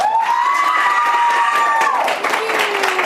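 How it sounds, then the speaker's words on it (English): Audience applause and cheering for a teacher honoured as a TV station's Teacher of the Week, a dense, loud wash of clapping with excited shouts and whoops from children, sustained throughout. "Give her a big round of applause."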